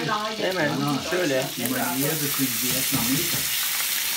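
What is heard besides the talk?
butter sizzling in hot pan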